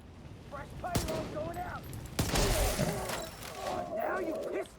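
Video game gunfire, a few sharp bursts of shots with crashing impacts around them, mixed with game effects and voices.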